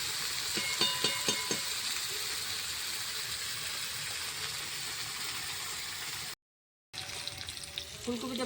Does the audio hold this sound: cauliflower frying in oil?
yes